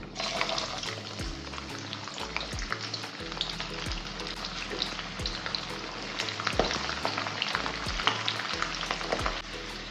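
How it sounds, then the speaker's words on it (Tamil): Peeled garlic cloves frying in hot oil with fenugreek seeds for mochai paruppu kulambu, a steady close sizzle with bubbling crackles and occasional spoon scrapes against the pan throughout. "100 கிராம் பூண்டு உரிச்சு வச்சுருக்கேன், இதை சேர்த்துக்கிறேன்."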